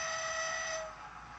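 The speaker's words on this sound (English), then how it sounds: "So let's have a whistle, and we'll get her going." Digital sound-equipped model Class 08 shunter locomotive gives one steady, fairly loud whistle blast lasting most of a second, then cuts off into faint background hum.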